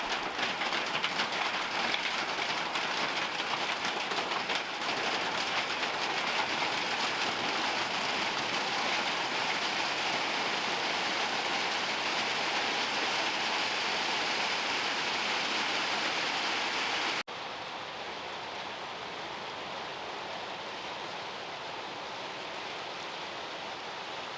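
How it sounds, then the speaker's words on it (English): Steady, dense summer storm rain mixed with hail pouring down close by, a constant hiss without pauses or voices; the roar drops to a softer level near the end. "Still coming down, but I think our total rainfall for the summer may have just doubled."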